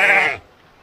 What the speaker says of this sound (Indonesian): ini domba apa ini? Domba Perancis mungkin.